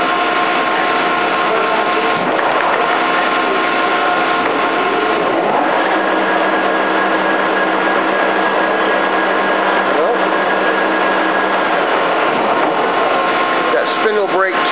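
A Lucas/Femat table-type horizontal boring mill with its spindle spinning at 1220 RPM, its top speed, giving a loud, steady mechanical whir with a sustained hum throughout.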